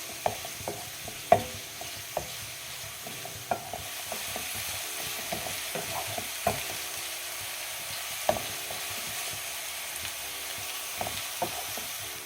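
Onions for a soya chunk and chicken cutlet filling sauté in a pan, a soft steady sizzle punctuated by repeated clacks and scrapes of a spatula stirring, close by with no talking.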